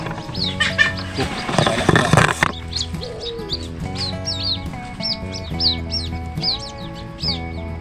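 Red junglefowl, wild chickens near a fishing spot, give short, high chirping calls repeated at a steady rhythm, some way off, over a continuous low droning background.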